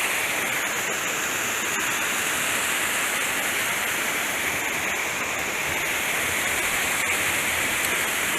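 Steady, loud rushing of white water tumbling through a small trout creek, a dense continuous hiss with no breaks or voices.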